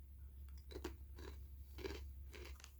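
Close, quiet crunching of Snyder's of Hanover nacho cheese twisted pretzel sticks being chewed, a steady rhythm of about five crisp bites over a low background hum.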